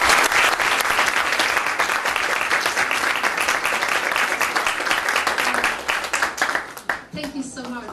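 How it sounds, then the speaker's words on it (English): An audience at a panel discussion on gender equality applauds in dense, sustained clapping that fills the room, tapering off at the end as a voice begins. "So a round of applause."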